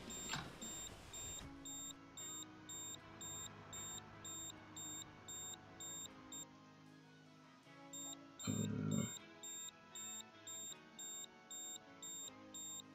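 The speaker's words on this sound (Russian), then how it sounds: "Да все, не пищи, я же заправляю тебя." A truck in a trucking video game beeps during refueling: short, evenly spaced high electronic beeps repeating in a steady rhythm, briefly paused midway and interrupted by a low thud, faint over a quiet background.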